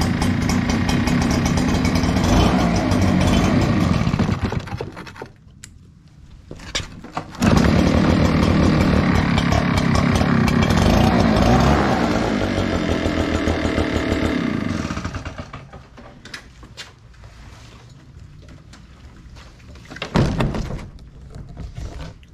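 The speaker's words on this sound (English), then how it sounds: "All right, that is a successful repair." Echo PB 9010T backpack leaf blower engine running after repair of its kill switch, a loud two-stroke roar that drops away twice, then returns, before fading to a rough idle and a brief final rev.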